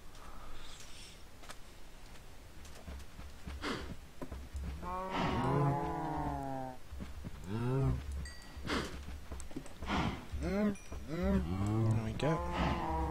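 Cows in the video game Minecraft moo repeatedly in a series of low, drawn-out calls, several overlapping in quick succession over steady background game noise.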